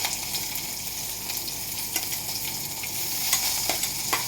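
Garlic and green chili sauté in a pan with a steady, bright sizzle and the occasional scrape of stirring, close and continuous with no talk.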